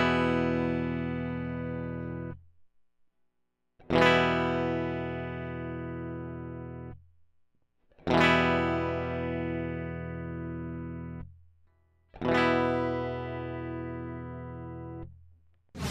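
An electric guitar running through a splitter and buffer over a 30-foot cable plays four long sustained chords, each ringing out and decaying before the next strike, with clean bright tone and no talking.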